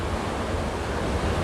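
Ocean surf at Watu Lepek, Malang, with wind pushed by the waves through a rocky sea-cave tunnel, heard as a steady, close, broadband rush of water and blowing air, unbroken and without voices.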